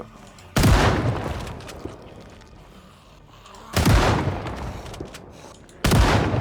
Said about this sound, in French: C'est quand même beaucoup plus simple avec le fusil à pompe.